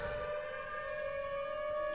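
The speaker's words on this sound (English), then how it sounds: "That's my tornado siren!" A tornado siren in Minecraft wails with a steady, sustained tone, holding level for the whole stretch with no other sounds over it.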